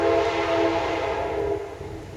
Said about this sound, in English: yes, we live next to the train.